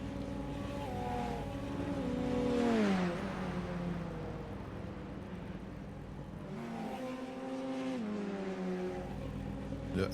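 Race cars at Oran Park, engines rising and falling in pitch as they sweep past one after another, fairly distant and moderately loud, a couple of clear passes with rising revs and downshifts.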